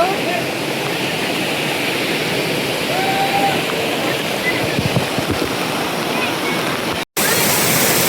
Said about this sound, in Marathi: आता इथे वॉटरफॉलच्या इथे मी बॅक साईडला जो आहे तो वॉटरफॉल आहे.